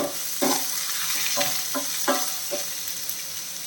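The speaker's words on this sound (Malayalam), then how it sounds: "എല്ലാം കൂടെ ഒന്ന് വഴറ്റി വെക്കാം സവാള നല്ല രീതിയിൽ ഒന്ന് വാടിച്ചിടണം" Chopped onion, carrot, curry leaves, green chilli and ginger sautéing in a pan for upma: a close, steady sizzle broken by several distinct spatula scrapes and stirs at an uneven rhythm.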